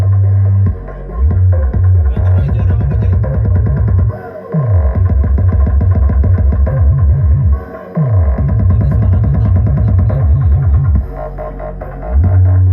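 Loud, bass-heavy music plays flat with no EQ through an Audax 15480 M8 15-inch speaker in a Martin box, with deep throbbing low notes in a steady repeating pattern and brief pauses.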